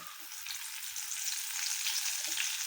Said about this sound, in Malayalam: വറക്കുന്നത് കേട്ടോ നമുക്ക് വേപ്പിലൊന്ന് വറുത്ത് എടുക്കാം